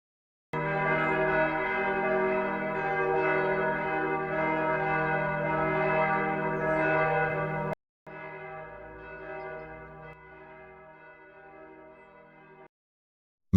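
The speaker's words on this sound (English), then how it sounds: "Only the bell on the coffin-maker's door chimed once in the wind" The bell on a coffin-maker's door chimes in the wind. It gives a loud, sustained ring that hangs for several seconds, cuts off, then sounds again more softly before fading, with nothing else heard.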